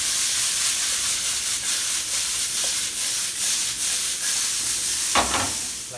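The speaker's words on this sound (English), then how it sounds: "Now we're gonna add our spring onion. We just want to toss them very quickly to get rid of the sharpness of the spring onion." Spring onions tossed in a hot pan for mushroom risotto give a steady, close sizzle throughout, with a brief clatter from the pan near the end.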